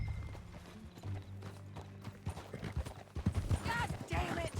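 A horse galloping with rapid rhythmic hoofbeats and whinnying in Red Dead Redemption 2, close and clear, while characters talk over it.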